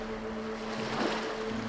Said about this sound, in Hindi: समुंदर की लहरें बीच से टकरा कर लौट रही थी